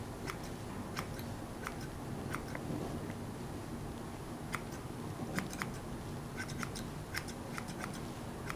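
Scissors trimming hair during a gentle personal-attention session give crisp, close snips that come in irregular clusters over a soft steady background, with no talking.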